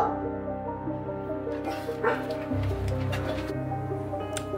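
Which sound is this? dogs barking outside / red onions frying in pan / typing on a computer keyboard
dogs barking outside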